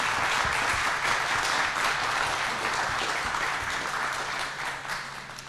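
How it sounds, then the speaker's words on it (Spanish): A crowd applauds steadily and loudly throughout, the clapping tapering slightly toward the end. "quiero pedir un fuerte aplauso para este gran momento"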